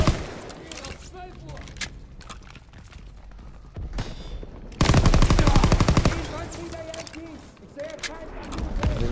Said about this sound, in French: J'ai des grosses mitrailleuses, c'est bien.